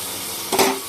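Butter dropped into a hot wok gives a short burst of sizzle over a steady background hiss, brief and close.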